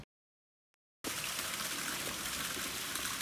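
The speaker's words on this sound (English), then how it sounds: "be prepared to come across all these lovely little cascading water" A small cascading stream along the Camino Portuguese walking route gushes steadily after about a second of silence, a close, continuous rush of running water with no voices.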